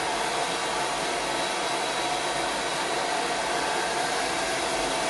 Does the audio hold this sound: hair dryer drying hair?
yes